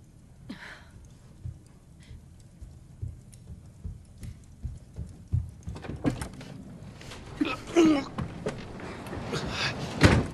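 A chalet door is handled and opened, with scattered knocks and clunks that grow louder toward the end, over quiet room tone with voices and a sigh.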